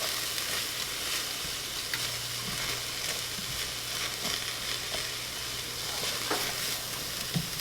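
Peppers sizzle and fry in a hot pan for pepper jelly, a steady crackling hiss with faint stirring scrapes and no talk.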